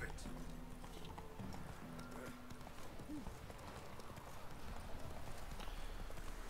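Roach, Geralt's horse in The Witcher 3: Wild Hunt, clip-clops along in a steady hoofbeat rhythm, with a brief whinny, while someone talks over the game sounds.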